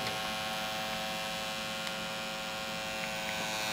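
Steady electrical hum from a brand-new Xbox 360 Slim console, a constant low drone with a faint high whine, unchanging and fairly quiet throughout.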